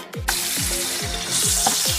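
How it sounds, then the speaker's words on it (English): Vegetables and noodles cook in a pan with a loud, continuous sizzle close by, while a repeating low thump comes roughly every half second from stirring or tossing. No one speaks. "now it's time to add some noodles in a pan and mix gently and cook for"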